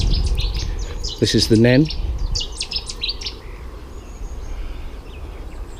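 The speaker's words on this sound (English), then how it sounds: "I just love the bird song" Birds chirp and twitter beside a canal navigation waterway near locks on the River Nen, with bright calls scattered throughout over steady outdoor ambience while someone speaks briefly.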